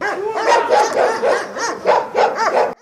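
Several stray dogs bark loudly and close by in quick repeated bursts, their yaps overlapping with no pauses for quiet, outside an apartment complex in Odesa.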